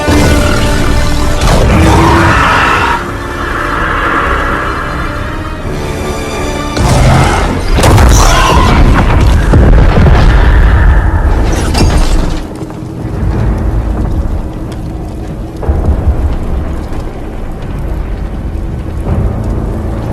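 A blimp is blown apart in the WW2 Zombies video game, with a loud, prolonged roar of booming blasts, crashing debris and rumbling that swells and surges over about twenty seconds.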